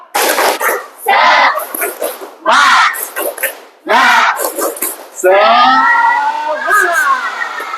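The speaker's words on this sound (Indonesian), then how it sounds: "Kita mulai. Tepuk semangat." Schoolchildren in an Indonesian classroom perform a rhythmic spirit clapping chant led by their teacher, loud bursts of shouted syllables and claps in quick succession, ending in a sustained group cheer.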